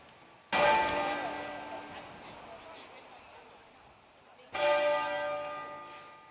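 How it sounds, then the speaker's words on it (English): Large church bells toll in London at Westminster Abbey and St Paul's Cathedral in memory of the late Queen Elizabeth II, two loud resonant strikes a few seconds apart, each ringing on and slowly decaying. "At midday here in London, bells tolled at Westminster Abbey and St Paul's Cathedral in memory of the late Queen Elizabeth II."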